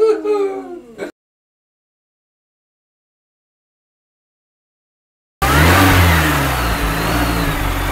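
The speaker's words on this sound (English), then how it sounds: "Start the car and go." Car engine starting and revving, preceded by a brief voice, then a silent gap before a loud, rough engine roar kicks in and holds with steady revving.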